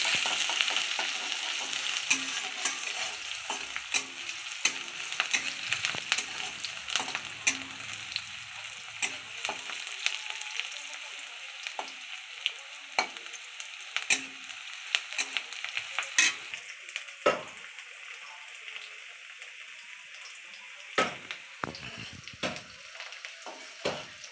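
A spatula stirs onion and garlic frying in oil in a kadai: a continuous hiss of sizzling broken by frequent sharp scrapes and taps against the pan, close up, with no voices.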